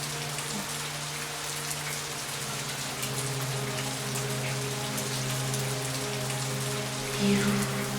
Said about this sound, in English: Whenever I hear the sound of rain